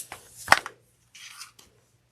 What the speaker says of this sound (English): We're just going to cut those strings.